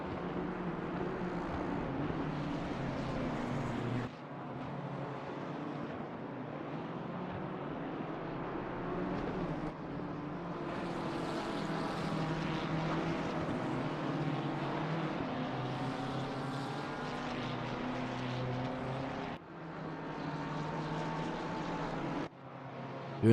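A Ferrari GT race car for the Omega Racing team drones steadily through Paddock Hill Bend at Brands Hatch in Assetto Corsa Competizione, its engine pitch rising and falling with a few abrupt cuts between gears.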